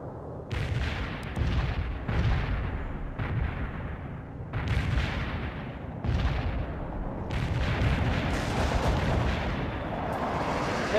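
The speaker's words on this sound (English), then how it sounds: "Cluster bombs are armed." Cluster bomb strike in the real-time strategy game World in Conflict: a barrage of heavy, booming explosions rolls in overlapping waves, loud and dense, with repeated sharp blasts over a continuous rumble and no talk.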